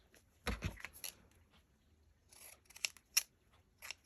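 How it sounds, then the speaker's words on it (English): Slightly dull pinking shears cut through paper at a craft table, giving a few soft, crisp snips and rustles spaced across the moment, quiet and close with no talk. "These scissors are a bit dull."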